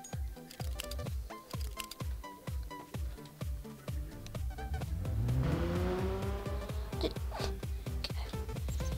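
A car in Garry's Mod roleplay gameplay drives past with a rising engine whine over a steady run of rhythmic clicking, growing louder as it nears.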